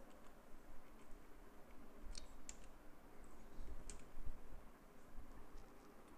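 Fingers typing an email address on a computer keyboard, a few quick clusters of light clicks and taps, faint against a low background rumble.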